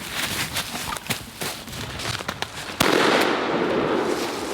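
A single loud shotgun blast fired at a wild eastern turkey during a Tennessee hunt, a sharp crack near the middle followed by a sustained rumble of echo and rustling outdoors.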